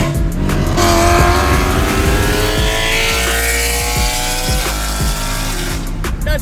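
A BMW M3 engine pulls hard while driving, the revs climbing steadily and loudly before a gear change drops the pitch and it builds again, with no talk over it.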